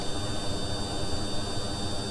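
A Klimov jet engine on a plane in Kerbal Space Program drones as a steady, loud, unbroken roar with a hissing, whooshing edge and no pauses.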